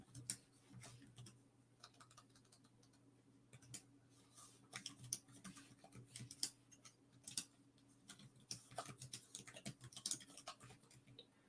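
Typing on a Boox e-ink tablet: quiet, irregular taps and clicks in quick clusters, close but faint against a soft steady hum.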